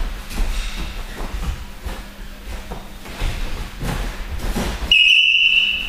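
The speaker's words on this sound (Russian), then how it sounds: "Так, мальчики, свисток это для Максима и Дениса." Background shuffling and bumps during a school game, then a single sharp, shrill whistle blast near the end, loud and close.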